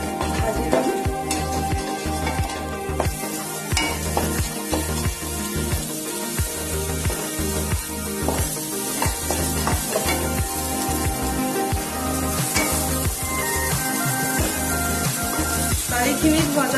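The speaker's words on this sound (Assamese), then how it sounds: "দালিখিনি মই অলপ ভাজি ল'ম।" Salted masoor dal fries and is stirred in a pan, a loud, constant sizzle broken by repeated scraping strokes of the spoon, with no voices.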